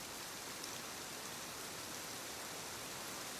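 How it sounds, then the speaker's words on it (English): Soft, steady rain falling on a roof, an even hiss of many fine drops with no pauses, faint and gentle throughout. "Outside, rain softly repeats itself on the roof."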